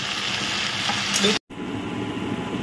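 Mixed leafy greens (shaak) cook in a pan with a steady hissing sizzle, broken by one brief silent gap, with no voices.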